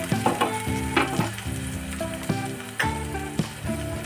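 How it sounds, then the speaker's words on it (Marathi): Egg bhurji being stirred and broken up in a hot pan, a steady sizzle with repeated scraping and clinking strokes of the spoon, close and clear with no voices. "आता हे व्यवस्थित असं मिक्स करून घ्यायचं"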